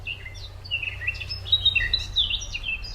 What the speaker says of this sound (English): species such as robins, chiffchaffs, blackcaps and goldfinches have distinctive chirpy calls